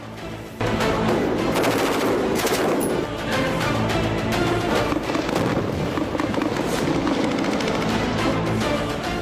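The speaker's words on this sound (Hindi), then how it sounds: "ये यहाँ पे एसएसजी कमांडोज जो है वो अपनी फायरिंग की प्रैक्टिस करते हैं।" Gunfire from SSG commandos at a Pakistani firing practice range: dense, sustained bursts of automatic shots rolling almost without pause, loud and close, with a brief lull early on.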